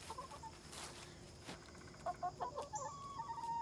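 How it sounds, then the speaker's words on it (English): Backyard chickens cluck in short, quiet bursts nearby, several birds chattering over faint outdoor background noise. "The chicken happy to see me."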